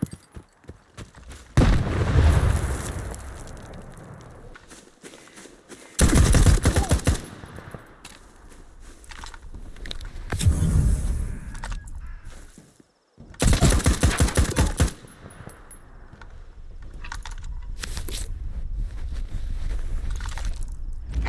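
Grenade blast and gunfire in S.T.A.L.K.E.R. 2: several bursts of loud rapid automatic fire, alternating with deep booming explosions and rumbling tails, close and harsh with short lulls between them.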